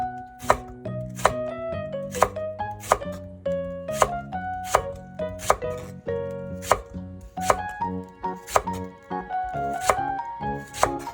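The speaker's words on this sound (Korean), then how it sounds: "대파 1개도 어슷썰기나 송송송 썰어주시면 됩니다." Knife chopping a Korean green onion (daepa) on a cutting board, delivering about a dozen crisp, evenly spaced thuds close up, with no speech.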